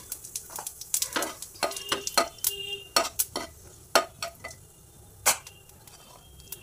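Cumin seeds tempering in hot oil in a wok, giving a series of sharp crackles and pops at an uneven rhythm over a faint steady sizzle, close and fairly loud.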